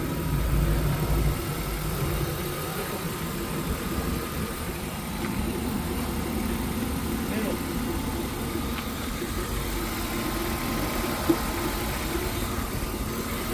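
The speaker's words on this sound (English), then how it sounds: "You hear that sound? So not only is the fan clutch bad, we got a head gasket leak." A BMW engine with a failing fan clutch and a leaking head gasket idles steadily up close, a continuous low rumble and drone that holds at the same level throughout.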